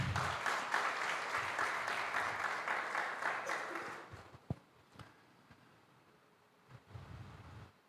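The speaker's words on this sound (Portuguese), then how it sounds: "Você pode aplaudir esse Deus" Church audience applause during a Christian sermon, a dense roar of clapping that holds for about four seconds and then fades out, leaving faint room noise and a few scattered claps.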